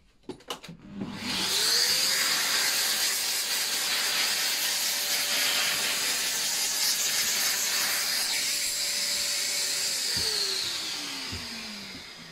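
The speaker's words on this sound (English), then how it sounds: "So we're going to get the vac on." Vacuum cleaner run over a wooden mitred keepsake box to remove dust, starting with clunks, then a loud steady whining hiss that holds for about eight seconds before the motor winds down.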